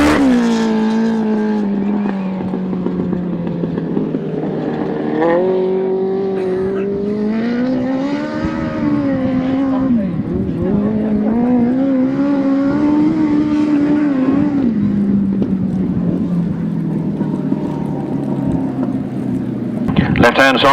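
Left-hand sidecar motorcycles racing on a grasstrack, engines droning and rising and falling in pitch as they run laps, loud and continuous with a commentator's voice over the top.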